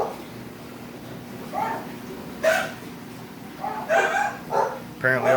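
Several dogs bark in short excited bursts at moderate distance, scattered irregularly with quiet gaps between them, in a room near a reef aquarium.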